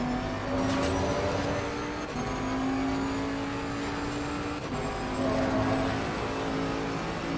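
Bentley GT3 race car engine in Assetto Corsa Competizione at Silverstone, a steady loud high-pitched drone holding a near-constant pitch through a corner, with brief dips as revs shift, no talking.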